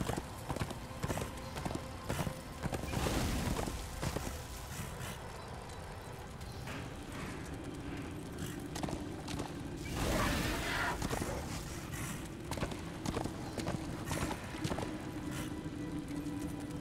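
Hoofbeats of a horse galloping in the Darksiders II Deathinitive Edition video game, a steady loud clip-clop rhythm running throughout alongside game effects, with no talk over it.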